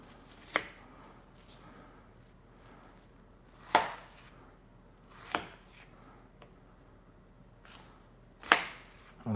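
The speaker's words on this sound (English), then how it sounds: "We got our onions chopped" Knife chopping onions on a board: four or five sharp, separate cuts spaced a second or more apart, close and distinct over a quiet room.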